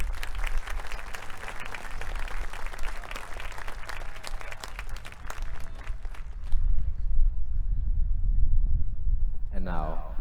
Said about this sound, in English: Let's give Alpha Company one more round of applause for their accomplishments.